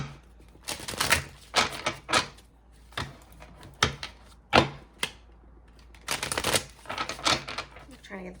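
Tarot cards being shuffled by hand, a series of soft papery riffles and taps in uneven bursts with short pauses between them, close and fairly quiet.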